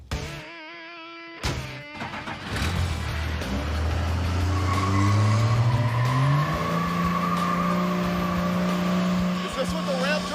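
A 1970 El Camino with a Cummins 12-valve diesel engine and a Gear Star transmission revs up into a loud, rising roar that settles into a steady drone, with squealing tires, close up.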